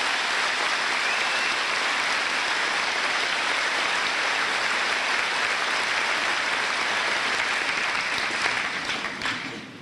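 Steady, dense applause from a large crowd at a graduation ceremony, loud and continuous throughout, fading slightly at the very end.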